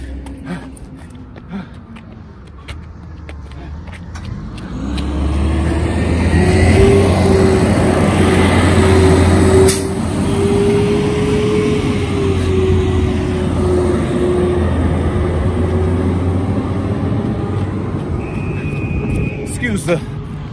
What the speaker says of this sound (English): Excuse the recycling truck.